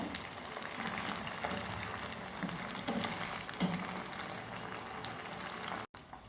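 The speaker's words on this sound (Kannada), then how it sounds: "ಕ್ರಿಸ್ಪಿ ಆಗೋವರೆಗೆ ಫ್ರೈ ಮಾಡಿಕೊಳ್ಬೇಕು" Chicken 65 pieces deep fry in hot oil, a steady, fairly quiet bubbling sizzle with a few soft stirring knocks and no one talking.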